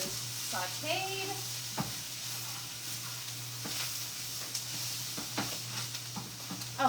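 Green chili sizzles steadily in a pan, close and continuous, with occasional utensil taps and stirring scrapes.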